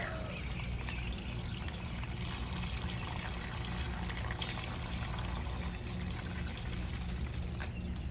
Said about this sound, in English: pull up one of the pots, pour water in, and then put it back